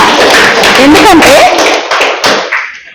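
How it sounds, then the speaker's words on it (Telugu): An audience at a Women's Day event applauds in a dense burst of clapping, with a voice briefly rising above it before the clapping thins out toward the end. "సో మీ అందరికీ గ్రేట్ చప్పట్లండి కదా, చప్పట్లు కొడదాం గట్టిగా."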